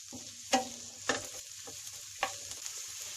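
Onion, ginger, garlic, green chilli and curry leaves sauté in a pan for a soya chunks masala curry, a steady close sizzle broken by a few sharp scrapes of stirring.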